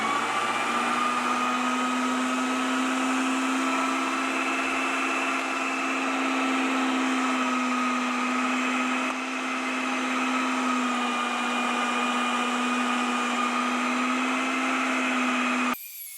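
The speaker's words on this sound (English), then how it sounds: "Let's go over to the grinder over here." An electric meat grinder churns through pork rib trimmings in a steady, loud motor whine with a low hum. It runs unbroken for about sixteen seconds before cutting off abruptly, with no voices.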